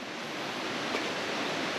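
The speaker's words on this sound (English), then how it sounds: "and I found the waterfall" Waterfall in a river gulch, heard as a constant, broad rushing roar of falling water, fairly soft and unbroken, with no voices.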